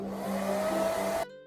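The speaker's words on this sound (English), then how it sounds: "I'm going to just give this a quick dry, especially the bottom" A hair dryer blows on a freshly painted terracotta pot, a steady close whoosh with a humming tone that cuts off abruptly near the end.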